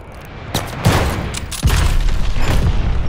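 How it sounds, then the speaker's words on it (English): A glide bomb blasts in a Call of Duty: Vanguard multiplayer match, heard as heavy booming explosions with a fusillade-like crackle that builds and sustains loudly across the moment. "Enemy glide bomb incoming."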